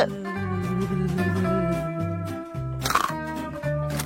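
A single crunchy bite into chocolate-dipped food from a chocolate fountain lands briefly near the middle, close and short, under steady background music.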